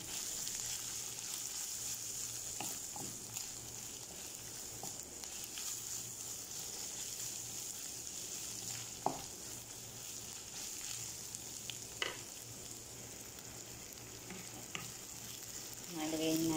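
Ground meat and spices fry in oil in a pan, a steady soft sizzle with occasional stirring scrapes and clicks, fairly quiet and close, no talking.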